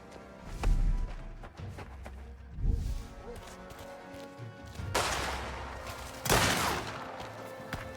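Gunfire in Mafia: The Old Country comes as several separate heavy bursts of shots and impacts, with quieter gaps between them, at moderate loudness.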